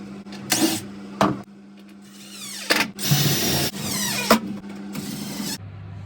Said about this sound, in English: So I'm just gluing and screwing all of these little bits down now